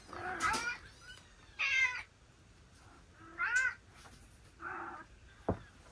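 A Maine Coon cat meows five times in short, separate calls with pauses between them, fairly close in a quiet room.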